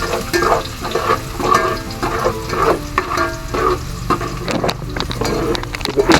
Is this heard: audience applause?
no